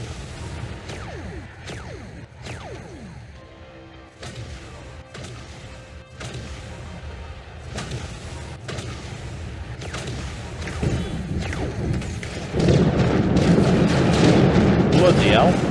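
Ship weapons in the space strategy game Terra Invicta fire in a sustained barrage of repeated booming blasts and sweeping whooshes, growing denser and louder toward the end, with someone speaking over the action.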